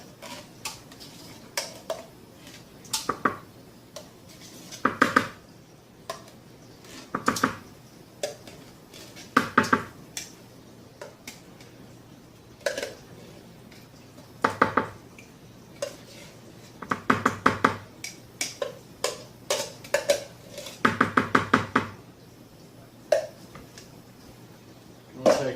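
Pumpkin is added to an already fermenting makgeolli bucket, with repeated clattering scrapes and hollow clunks of a utensil against the plastic fermenter, coming in short irregular bursts separated by brief pauses.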